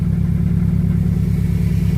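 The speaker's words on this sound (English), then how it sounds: "I unplugged that, and now the truck sounds weird." A truck engine idles roughly with a sensor unplugged, giving a steady close low rumble with an uneven, rhythmic pulsing throughout and no voices.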